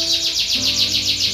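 A canary chirps in rapid repeated sweeping notes, loud and close, over a faint background hum.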